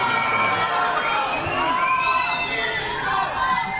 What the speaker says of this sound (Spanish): fueron recibidos con gritos de cínico y mentiroso